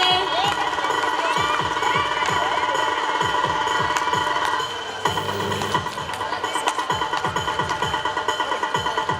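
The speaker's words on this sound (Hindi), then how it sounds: "बच्चे जोरदार तालियों से इस्तकबाल करें।" Schoolchildren at a primary school annual sports day clapping and cheering, a dense crowd roar with rhythmic clapping throughout, children's shouts over a loud, continuous outdoor background.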